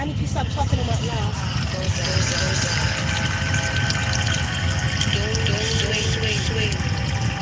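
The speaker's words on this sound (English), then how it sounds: "Listen to the water." Water runs and gushes steadily throughout, loud and close with a continuous rushing texture, while people talk over it.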